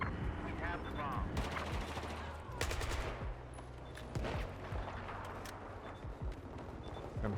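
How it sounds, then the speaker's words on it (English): Sharp video game gunshots and sniper shots crack in scattered bursts, some rapid and clustered, others single and spaced out, over a continuous background rumble. "I'm hearing gunshots,"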